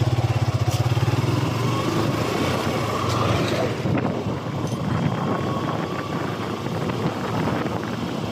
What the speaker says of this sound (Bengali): এখন বাইক স্টার্ট দিলাম, আবার রওনা হচ্ছে আমার গন্তব্যস্থলে।